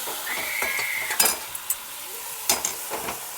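Sago pearls for sabudana khichdi are stirred in hot oil, with a soft sizzle under sharp clinks and scrapes of a spoon against the pan, plus a brief high squeak near the start.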